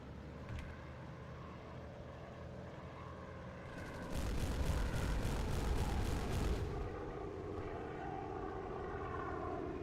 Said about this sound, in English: That was a Heinkel. That's a German medium bomber loaded with 8 250-kilogram bombs